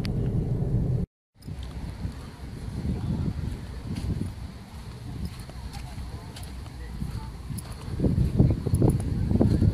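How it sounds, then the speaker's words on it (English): Steady wind buffeting a microphone outdoors in the Middle East, with low rumbling gusts that grow stronger near the end; a voice is faintly present. "You can see it's a bit windy."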